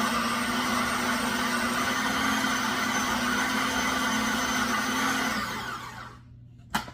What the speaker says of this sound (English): You want to blend in all the chickpeas, the garlic, and the tahini all in one, make a big paste